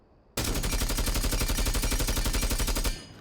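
Automatic rifle fire with a muzzle brake attached in Rainbow Six Siege plays as one loud sustained burst of rapid, evenly spaced shots lasting about two and a half seconds, then stops abruptly with a short tail.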